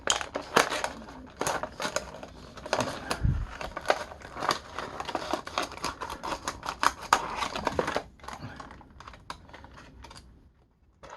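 Plastic blister packaging on a Star Wars Vintage Collection Mandalorian Super Commando figure is cut open with a rapid series of sharp crinkles, snips and clicks close up, thinning out toward the end.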